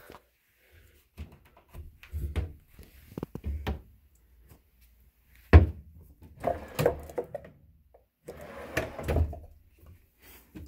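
Newly installed drawers in a renovated basement bathroom slide open and shut several times, each pass ending in a close wooden thunk, with a sharp bang midway and quiet gaps between.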